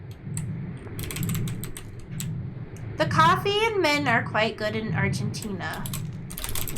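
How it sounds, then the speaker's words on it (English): Keys on a sticky keyboard clack in a rapid run of dry clicks, then a voice talks over the continued typing. "I don't like how sticky these keys sound."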